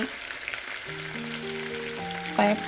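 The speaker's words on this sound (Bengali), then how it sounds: "কয়েকটা চিকেন ফ্রাই হচ্ছে বাটার চিকেনের জন্য" Chicken pieces frying in a wok for butter chicken, a quiet continuous sizzle, with a few tonal hums and a louder clink near the end.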